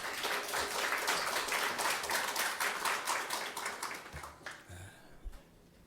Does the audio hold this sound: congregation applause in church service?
yes